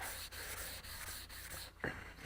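Wet sandable paper rubs over body filler on an IH 504 tractor in a continuous close scrubbing rasp with slight rhythmic strokes, alone and without talk.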